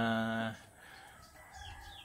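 A rooster crows loudly for about half a second, then faint clucking and rustling from hens in a pen continue quietly.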